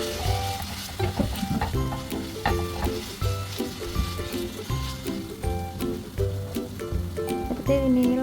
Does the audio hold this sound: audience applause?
no